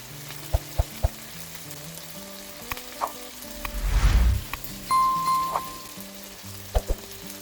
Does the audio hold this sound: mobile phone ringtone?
no